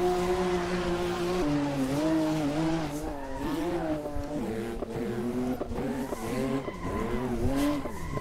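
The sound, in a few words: Porsche GT2 RS MR sliding on track, tires skidding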